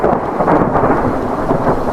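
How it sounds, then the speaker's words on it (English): Thunder rolls through a raging storm with heavy rain, a loud, continuous, dense rumble that fills the whole stretch without letup. "On that night, with the storm raging"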